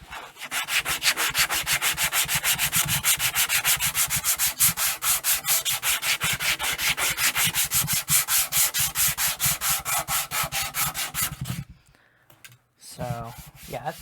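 Steady rhythmic sanding of a wooden guitar neck, rapid back-and-forth strokes scraping loudly and evenly, then a brief pause and a few closing rubs.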